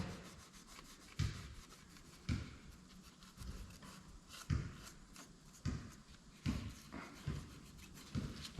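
A microfiber cloth soaked with brake cleaner wiping parts on a Silverado engine being assembled with a new cam, repeated rubbing strokes in a steady rhythm, close and clear with no talking.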